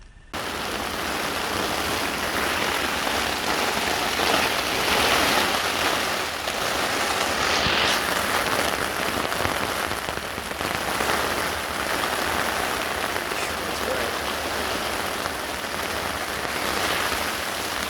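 Steady rain patters on a tent overhead, a dense continuous hiss of drops with no voices, close and fairly loud throughout.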